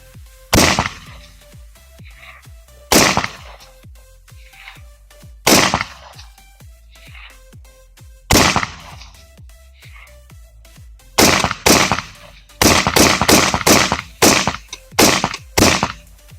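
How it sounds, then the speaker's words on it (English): An airsoft AR-15 fitted with a spade grip fires outdoors at a range, sharp cracks coming singly and then in rapid bursts with short gaps, loud and clear with no talking. "Alright, suppressive fire. At 400 yards."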